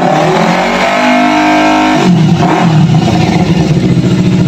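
A Kawasaki Ninja FI motorcycle engine runs loud and close, idling at first and then revving up sharply around halfway, with a rough, pulsing exhaust note that stays strong to the end.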